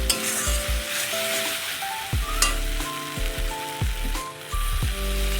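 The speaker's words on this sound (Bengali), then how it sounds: "বেশ মশলাটা ভাজা ভাজা হয়ে এসছে" Ground spices fry in hot oil in a pan with a bright, continuous sizzle, broken by repeated scraping stirs that come in uneven bursts.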